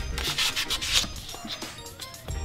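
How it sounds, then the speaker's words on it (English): Brembo brake calipers on an Acura TL are sanded by hand, making a quick rhythmic run of rough rubbing strokes that is close and fairly loud, with no talk. "I'm gonna go ahead and sand the driver's side while she sands the passenger side"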